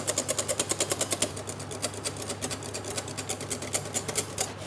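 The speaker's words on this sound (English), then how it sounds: "Add your butter gradually, keep whisking." Butter being whisked into madeleine batter in a bowl, a fast, even ticking of the whisk against the sides that repeats steadily throughout at close range, with no talking.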